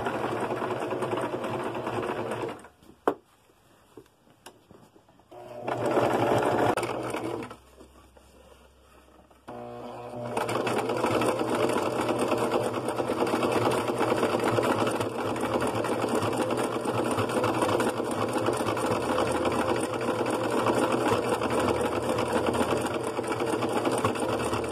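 A sewing machine runs a zigzag stitch over a braided rug or hot pad, whirring steadily in close, loud bursts with a couple of short pauses before settling into a long continuous run.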